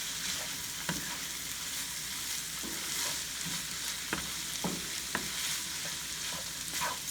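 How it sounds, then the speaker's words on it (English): Chopped onion and two serrano peppers hiss and sizzle in a hot pan while a utensil stirs them, with a steady frying crackle and a few sharp scraping strokes at irregular intervals, close up and with no talking. "add in my onion and my 2 serranos. And just stir that all up together"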